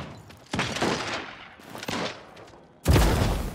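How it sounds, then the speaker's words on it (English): Fire staff shots in the battle royale game Realm Royale, three loud blasts with rocket-like bursts, each decaying over about a second, the last the heaviest. "I don't know if the fire staff is any good."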